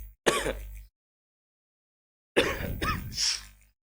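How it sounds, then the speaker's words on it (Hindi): Two loud, harsh coughing bursts, close to the microphone, separated by a long stretch of silence. "खांसी बहुत आ गई है वीडियो में"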